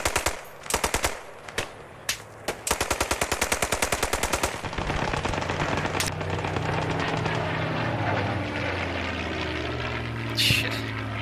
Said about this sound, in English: This gun is really hard to shoot.